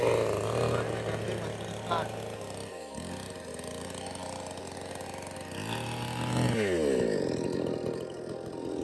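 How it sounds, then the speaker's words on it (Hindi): A petrol chainsaw cutting into a fallen tree outdoors after a storm, its loud engine droning steadily, dropping to idle and then revving back up into the cut. "अभी भाई करेंगे पेड़ काटने काम शुरू"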